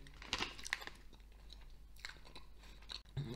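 Someone chews a Cadbury Wunderbar, a soft, creamy chocolate bar, up close in a quiet room; soft crunchy bites and mouth sounds come in irregular bursts, faint and with no talking.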